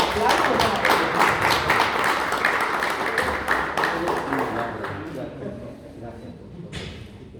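Indoor applause for an honoree at a cultural decoration ceremony, a dense burst of clapping that gradually thins and fades over several seconds, with a few last scattered claps at the end.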